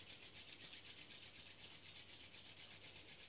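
Palms rubbing together briskly during a yoga practice, a steady soft swishing friction that runs continuously and evenly throughout, quiet and close with no talking.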